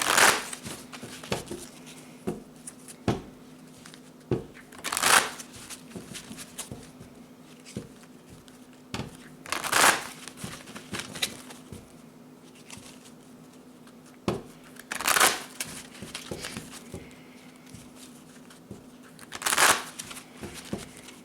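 Power animal tarot cards being shuffled by hand, with repeated riffling bursts roughly every five seconds and softer taps and slides of cards between them, close and quiet, with a faint steady hum underneath.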